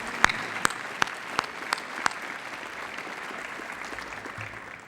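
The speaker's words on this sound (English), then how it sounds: "Please join me in giving him a round of applause" Sustained applause from an audience at a college state-of-the-college address, broad even clapping filling the room for the full five seconds and slowly tapering at the end, with a few sharper claps standing out early on.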